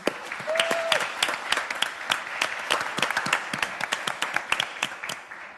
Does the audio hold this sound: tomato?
no